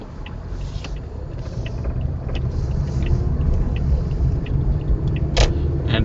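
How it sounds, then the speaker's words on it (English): A car approaches a red-light intersection in Guelph, a low road rumble that swells gradually from inside a stopped vehicle, with faint wind noise and no talk. "Yeah, see, one car is coming"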